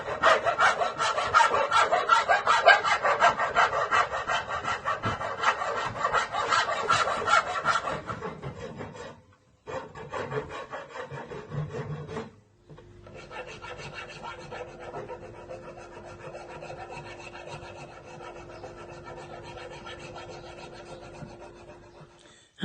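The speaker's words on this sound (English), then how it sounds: "Right, time for the filing. Filing of the handle." A file rasps along the handle of a handmade sword in steady back-and-forth strokes, loud and close, pausing briefly twice before continuing at a slightly softer level, with no voices.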